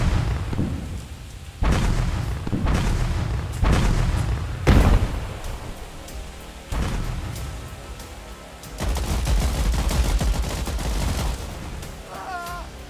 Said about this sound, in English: Luftangriff auf feindliche Stellung!